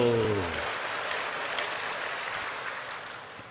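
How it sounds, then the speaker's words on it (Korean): A church congregation breaks into sustained applause during a sermon, a dense patter of clapping after a voice briefly trails off at the start. "우리 하나님 아버지께 감사 박수 한번 해요"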